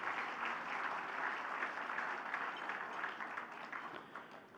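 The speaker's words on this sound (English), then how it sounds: "Let's give them an applause, ladies and gentlemen." Steady applause from a crowd at the Kiwi Indian Hall of Fame awards, many hands clapping densely and continuously, tapering slightly toward the end.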